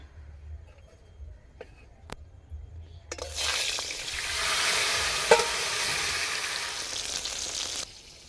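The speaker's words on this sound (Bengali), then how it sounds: "সবার ফার্স্টে বেগুনটা ভেজে নেব" Eggplant hits hot oil in a wok and a loud, steady sizzle erupts after a few quiet seconds of light kitchen clatter, then fades abruptly near the end.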